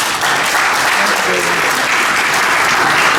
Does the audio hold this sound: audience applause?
yes